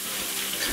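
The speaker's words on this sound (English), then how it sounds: "Just wash my hands." Water runs steadily from a tap into a sink during handwashing in a kitchen, a continuous close hiss of flow with no voices.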